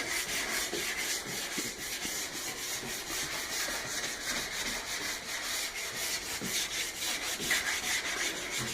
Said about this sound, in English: next I will take the fiber bristle brush, and we'll start to begin the process of finishing the wax and polishing it up